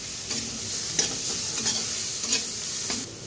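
Ground cumin, coriander and Kashmiri chili powder stirred in a hot pan for egg devil, with a steady close sizzle broken by a few soft spatula scrapes; no talking.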